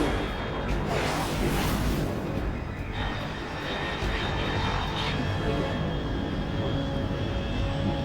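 An unidentified aircraft in the Metal Gear Solid Delta: Snake Eater video game passes overhead at high altitude and great speed. A broad, steady roar rises early, then settles into a continuous wash of engine noise.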